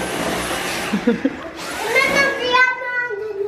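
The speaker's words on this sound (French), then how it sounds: "Et là a décidé de passer l'aspirateur" A vacuum cleaner whines and roars nearby, rising in pitch partway through, while a voice is heard briefly over it.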